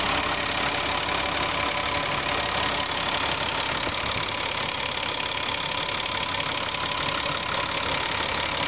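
A car engine idles steadily up close, a continuous even rumble with a faint ticking texture, no voices.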